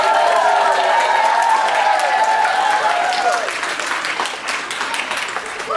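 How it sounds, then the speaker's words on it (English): Applause for a graduating DARE class of 2013 at a school ceremony: a crowd claps steadily and loudly, thinning slightly toward the end, with a few voices mixed into the noise. "let's give a huge round of applause for the class of 2013 DARE American"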